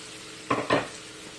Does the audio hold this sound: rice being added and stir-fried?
yes